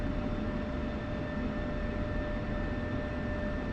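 An F-16 jet engine runs on the ground during a maintenance run-up toward 85% power, a loud, steady roar with a constant whine throughout and no voices.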